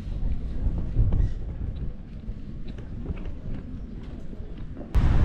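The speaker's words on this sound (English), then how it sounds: "Windy again. Anywhere by the coast is windy." Constant gusty coastal wind roaring across the microphone outdoors on the Essex coast, a heavy low rumble that rises and falls, with a sharp bump near the end.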